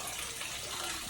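Water runs steadily from a tap into a basin for soaking a gauze dressing, a continuous broadband wash of splashing and hiss at moderate level that cuts off briefly at the end.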